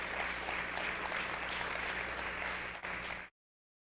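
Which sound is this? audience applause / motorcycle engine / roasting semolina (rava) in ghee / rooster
audience applause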